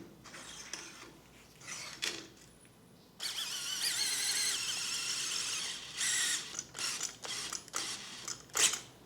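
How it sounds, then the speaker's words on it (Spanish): Surgical power drill driving a long screw for a femoral neck plate in an operating setting, heard as a sustained whirring run in the middle between shorter mechanical bursts, close and moderately loud. "al ser un tornillo largo podemos introducirlo con el perforador"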